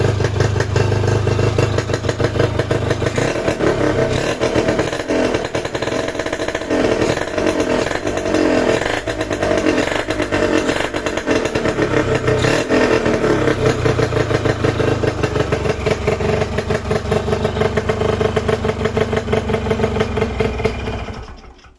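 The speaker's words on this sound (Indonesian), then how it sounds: "Akhirnya hidup kembali motor ini ya." A small two-stroke Yamaha RX King motorcycle engine runs steadily and loudly for the whole stretch, a buzzy, rattling idle with faint clatter and no talking.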